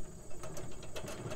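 Hand-cranked corn sheller stripping kernels from an ear of corn, a quick burst of close, rattling mechanical clatter with rapid ticking as the crank turns.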